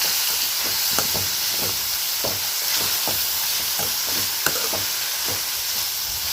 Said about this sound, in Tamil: முட்டைக்கோஸையும் சேர்த்து நல்லா வதக்கிக்கலாம்.